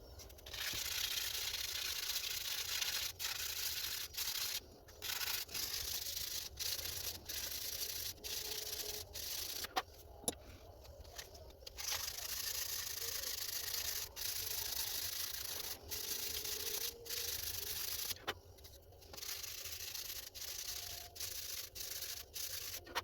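Sanding wood by hand with Diablo sandpaper for a wooden tank truck model, a continuous rough rasping stroke after stroke with brief pauses, close and fairly quiet.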